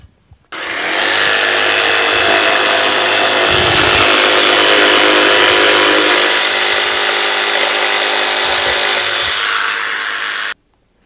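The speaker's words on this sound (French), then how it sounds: "Et on va couper à la scie sauteuse." A jigsaw cuts steadily through glued parquet flooring for about ten seconds, a loud, continuous buzzing rasp with a high whine, starting and stopping abruptly.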